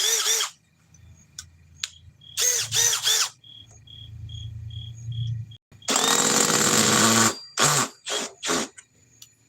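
A power drill whirs in several short bursts, then a longer louder run, with clicks and pauses between, close to the mic.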